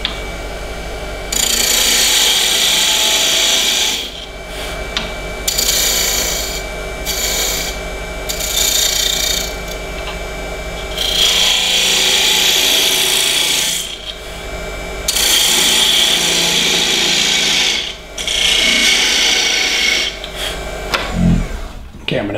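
An off-center goblet spins on a wood lathe, a loud steady rasping, rubbing drone of tool on wood in long sustained passes broken by brief pauses, close up, with little talk.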